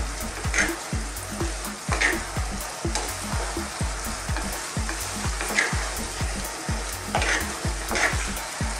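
Minced pork sizzles steadily in a pan with tomato sauce and soy sauce for a Filipino guisantes dish, a dense continuous frying hiss with a few soft stirring scrapes, close and alone without talk.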